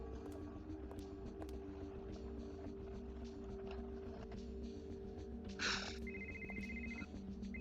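A phone ringing in the point-and-click game Art of Murder: Cards of Destiny, heard as a short electronic ring tone toward the end, moderately clear over a steady low motor-like hum.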